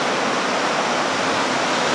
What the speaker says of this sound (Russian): Сегодня очень нехилый шторм